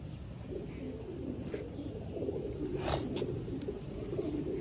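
A pigeon coos in low, throaty rolls, joined by a few faint chirps and brief rustling bursts over a steady background, with no speech.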